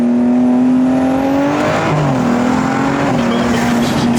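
A tuned BMW F30 335i with an N55 engine accelerates hard up an on-ramp. Its exhaust note climbs steadily through the revs, then drops with a shift before rising again, loud and close inside the cabin.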